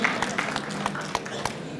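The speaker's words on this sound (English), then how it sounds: "A round of applause for Brother Farul Khan" An audience applauds a donor's pledge at a community fundraising event, a dense patter of clapping with voices mixed into the crowd noise.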